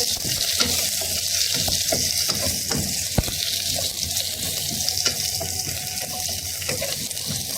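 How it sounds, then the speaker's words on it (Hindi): Cubed capsicum and onion sautéing in a pan for chicken Manchurian, a constant hissing sizzle with scattered clicks and scrapes of stirring. "इनको थोड़ा सॉटे करेंगे।"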